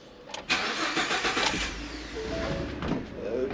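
A Ford F-150 pickup truck engine cranking and catching, then settling into a steady mid-pitched idle, close and loud with no talk.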